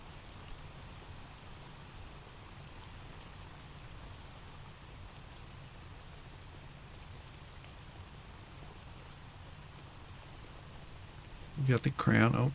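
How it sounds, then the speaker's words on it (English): Steady rain patter runs from start to end at low level in the Blue Prince stream, a soft continuous hiss with a low rumble, and a louder voice-like burst breaks in near the end. "I should turn some rain sounds."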